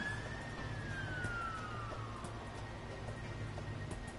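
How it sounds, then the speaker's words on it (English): Police sirens wail in the video game DC Universe Online, a faint sweeping tone that falls in pitch over steady background game noise. "I think I hear sirens."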